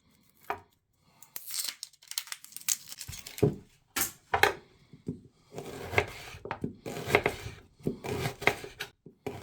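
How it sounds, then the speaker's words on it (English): A knife slices through an onion on a chopping board in a run of close, crisp cuts, irregular at first and then coming in quicker bursts, with no other sounds around them. "So top, tail, peel and slice your onion."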